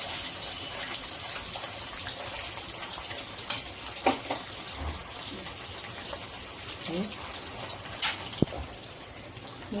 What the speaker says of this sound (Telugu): చేపని వేద్దాం నూనెలో